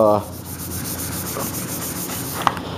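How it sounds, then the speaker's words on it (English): A superfine scuff pad rubbing over a primered plastic car bumper on a Nissan, a close, steady abrasive hiss with a small tap near the end. "I've been scuffing it with this superfine pad"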